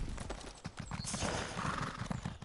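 A horse mount in the Elder Scrolls Online video game trots with a steady rhythmic clip-clop of hooves, close and fairly loud, continuing without a break.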